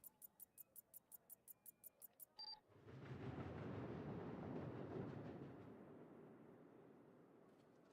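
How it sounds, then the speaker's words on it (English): A train passes by, a broad rumbling roar that swells, holds for a few seconds and then fades. It follows a run of rapid, evenly spaced beeps and is fairly faint overall. "Just heard a train go by."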